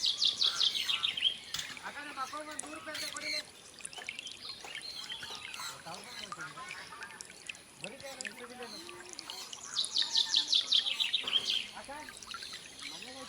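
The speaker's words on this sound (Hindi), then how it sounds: "इन सैकड़ों पक्षियों की चहचहाट" Hundreds of birds chirping in a Coorg coffee garden, bright high twittering bursts coming and going over a steady outdoor bed, with a voice talking through much of it.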